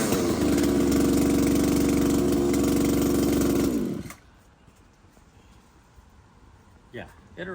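Gasoline weed eater engine with a swapped-in replacement engine running loud and steady up close for about four seconds, then cutting off into quiet with a faint clatter afterward.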